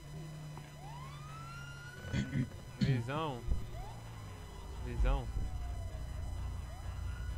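A police car siren wails with rising and falling sweeps in a Brazilian police chase video game, loud and close over engine rumble, while someone speaks over it.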